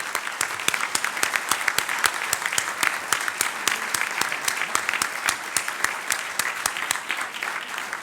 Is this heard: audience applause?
yes